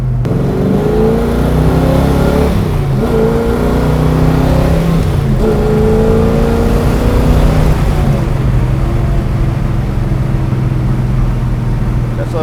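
A 1970 Chevelle SS454 muscle car's big-block engine drones loudly on a test drive, rising and falling through repeated revving surges as it accelerates, with the steady engine roar filling the cabin throughout.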